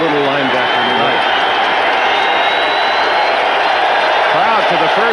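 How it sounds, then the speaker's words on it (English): A football stadium crowd roars loudly and continuously during a cold 1990 Raiders at Minnesota game, with a commentator talking over the din. "Crowd for the first time makes some noise."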